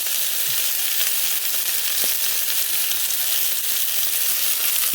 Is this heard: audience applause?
no